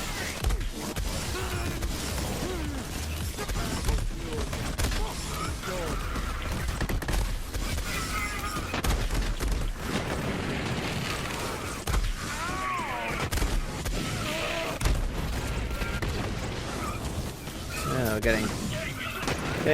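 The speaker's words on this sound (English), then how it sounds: "Let's spam our cannon a little bit." Repeated firing of the MNTIS shoulder cannon in Borderlands 3 gameplay, with dense volleys of blasts and impacts running continuously amid game effects, while someone talks over the action.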